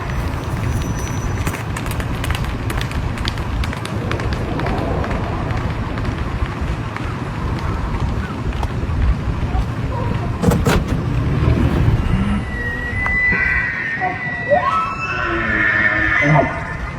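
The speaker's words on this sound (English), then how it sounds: "That is a herd of elk." A herd of elk crossing a road in Estes Park, Colorado, with a rustling, trampling clatter of hooves over a steady idling car rumble, then brief high calls toward the end.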